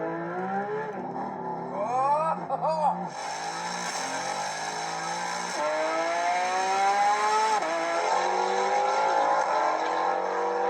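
A Porsche 911 GT3 RS and a Mercedes-AMG GT R drag racing, their engines revving hard and climbing through gear changes, loud and continuous, with a voice talking over the roar.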